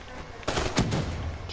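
A short, loud burst of gunfire from Black Ops 3 rings out close by, with a muddy blast of noise in the middle and no voices over it.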